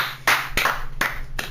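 Four sharp hand claps spaced roughly a third of a second apart, close and fairly loud, each with a short bright burst, with no talking.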